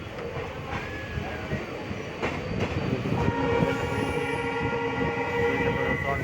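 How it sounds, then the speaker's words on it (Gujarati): A train pulls out past Songadh station on the Lathi to Sihor line with a continuous close rumble and wheel clatter that grows slightly louder partway through, and faint tonal squeals ride above the rolling noise. "સોનગઢ ટ્રેન નીકળી રહી છે."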